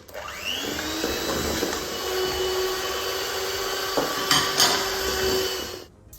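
Electric hand beaters whirring steadily at close range as two egg yolks are mixed into a raspberry slice batter, with a few knocks against the bowl before the motor cuts off at the end.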